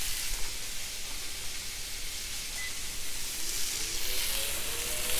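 Italian sausages sizzle on a Cinder indoor smart grill, a steady, close hiss and crackle with fine spitting that holds an even level throughout, with no voices.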